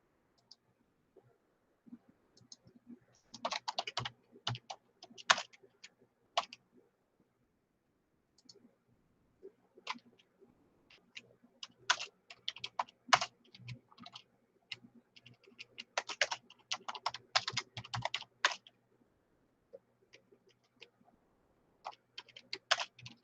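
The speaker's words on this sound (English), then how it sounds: "And we should type that here." Computer keyboard typing in bursts of rapid clicky keystrokes, fairly close and moderately loud, with pauses between runs and no talking over it.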